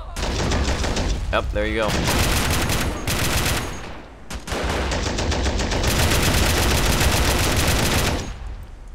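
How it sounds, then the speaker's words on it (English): Mortar strikes and heavy gunfire from an Iraq War 2003 video game mod boom and rattle almost continuously, loud and dense with brief lulls, while someone talks briefly over the battle. "So the mortar strikes"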